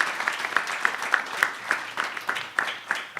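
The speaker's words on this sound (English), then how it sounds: "Please give a big round of applause to our esteemed panelists." Applause from the audience at a community-based tourism summit honours the panelists, a thin, sparse patter of claps with a few distinct sharp hand strikes standing out at a loose, regular pace.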